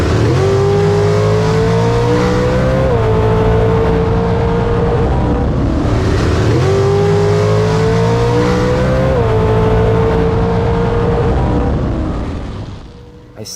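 Bracket drag racing with 450-class cars and a dragster on the strip, a loud continuous engine roar that climbs in pitch, dips and rises again, and then fades out at the end.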